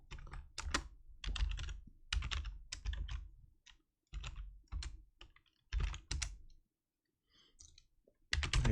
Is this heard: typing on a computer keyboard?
yes